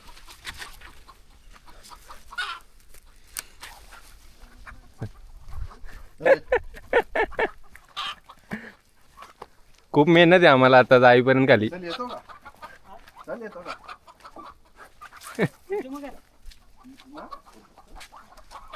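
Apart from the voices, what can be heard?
village chickens clucking and dogs barking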